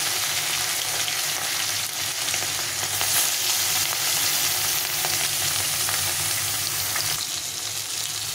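Pieces of rohu fish fry in hot oil in a pan for a spicy rohu curry, a loud, dense, unbroken sizzle close by, with no talking.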